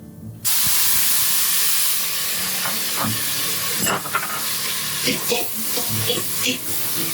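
Chopped tomatoes hit hot oil with a loud, sudden hiss for mash daal, then settle into a steady sizzle broken by stirring clatter, with no voice heard over it.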